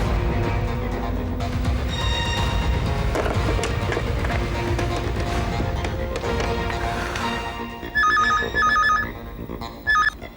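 A telephone rings in a Hindi TV thriller scene, repeated electronic ring bursts standing out clearly near the end over dramatic background music.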